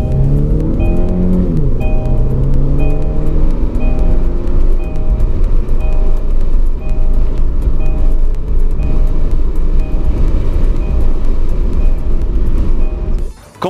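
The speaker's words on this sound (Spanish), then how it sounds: "Esto permite que el Niro despegue con agilidad cuando se acelera a fondo" Kia Niro 2019 hybrid crossover with its 1.6-litre engine accelerating hard, a loud steady engine drone rising in pitch through gear changes for over ten seconds, no talking.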